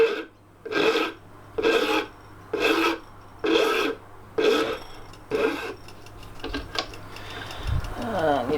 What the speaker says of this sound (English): let's begin chamfering these corners